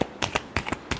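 Tarot cards being shuffled for a reading, giving several short, crisp riffling bursts at an even pace, close and fairly quiet, with no talking.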